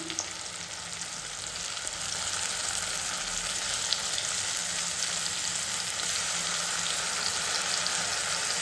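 Ginger garlic paste frying in a pan for spicy chicken, a continuous bright sizzle that grows louder after a couple of seconds, with faint stirring and no speech.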